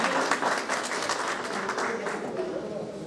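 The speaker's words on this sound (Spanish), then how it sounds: "un aplauso para la compañera que aparte se pagó el proceso" A group applauds a participant at a workshop, a brief burst of clapping that fades gradually over a few seconds, with voices faintly mixed in.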